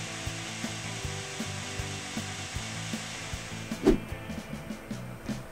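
A belt grinder fitted with a worn 100-grit belt grinds the bevel of a steel blade cut from an old table saw blade, a steady rasping drone with rhythmic pulses and a brief sharper scrape, alone and moderately close.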